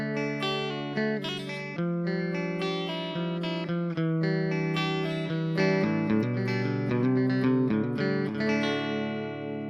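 Electric guitar played through single-coil pickups into a Vox MV50 amp on a clean setting with reverb, picking out sustained chords and notes steadily at moderate loudness, with no talking.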